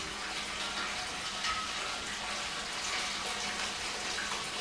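Homebrewed ESB wort rushes quickly out of a mash tun into a pot, a steady, loud gushing and splashing that runs unbroken from start to finish.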